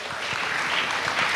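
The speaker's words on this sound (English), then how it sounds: "join me in giving a big round of applause to our outstanding graduates" A hall full of people applauds graduates of a school and college of nursing and speech and hearing at a graduation ceremony, a brief, continuous burst of dense clapping.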